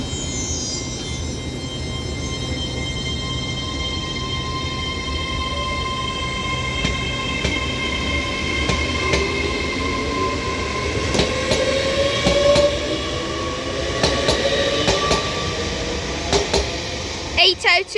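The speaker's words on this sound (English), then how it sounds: "delayed 1540 Transpennine Express service to Liverpool Lime Street from Newcastle with 802-201 with another Transpennine Express IET." A TransPennine Express class 802 bi-mode train runs through the station at Newton-le-Willows with a rising whine, rumbling wheels and a series of rhythmic rail-joint clacks building toward the end, loud and close, with people talking underneath.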